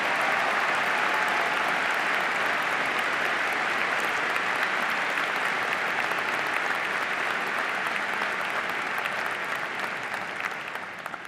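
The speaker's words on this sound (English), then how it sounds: "So let's give Dr. Brooke Barnett a round of applause as she moves on to her presidency." Sustained, dense applause from a large crowd at a university commencement ceremony, a loud even roar of clapping held for several seconds before tapering off at the close.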